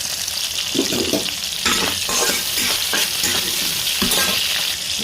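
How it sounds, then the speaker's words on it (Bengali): Shrimp fry in oil in a pan, a loud close sizzle that keeps going, with repeated stirring scrapes and bursts of spattering, and no talking. "এখন এর ভেতর আমি চিংড়ি মাছ দিয়ে দেবো এটাকে ভালোভাবে ভেজে নেবো"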